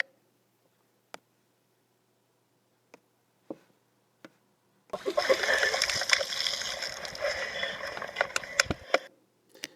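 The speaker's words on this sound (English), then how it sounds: "it's all about when the water hits the cliff" Sea water crashing against the base of a chalk cliff at Old Harry, a sudden loud surge of splashing and rushing foam that swells midway, holds for several seconds and fades, after a few quiet clicks.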